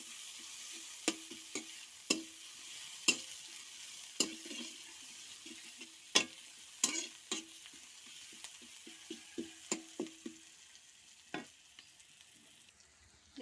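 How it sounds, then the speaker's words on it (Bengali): Onions fry in a pan toward brown, a soft continuous sizzle under repeated clinking spatula taps and scrapes that come in quick irregular runs, fairly quiet and close. "এবার পেঁয়াজগুলো একটু ভালো করে ভেজে নেব, একটু ব্রাউন কালার করে নেব"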